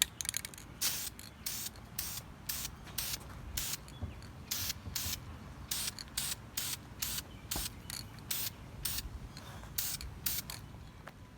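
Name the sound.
Dupli-Color gloss black caliper spray paint misted on exhaust tips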